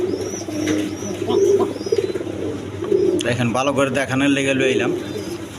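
Pigeons of assorted colour breeds, kept for sale, coo softly in repeated low murmurs close by while someone talks over them for most of the clip.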